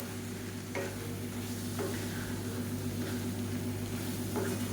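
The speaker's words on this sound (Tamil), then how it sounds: "ஒரு ரெண்டு நிமிஷம் நல்லா ஹை ஃப்ளேமில் வச்சு கரட்டி விட்டுக்கலாம்" Brinjal and potato pieces are stir-fried in a pan on high flame, a low continuous sizzle with a few distinct spatula scrapes and taps at intervals, close and without talk.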